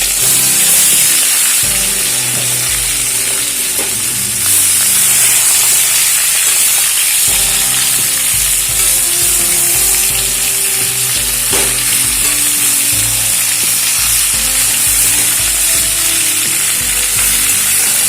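Mixed vegetables for Bengali shukto sizzle and fry steadily in a pan with ginger paste, a continuous close crackle broken by clinks and scrapes of stirring, with no voices.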